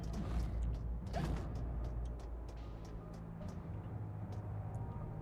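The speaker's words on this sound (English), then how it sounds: "And this opens the door" A door opens in the game Alice: Madness Returns with a drawn-out mechanical creak and grinding, accompanied by faint clicks and a low rumble, quiet and unhurried.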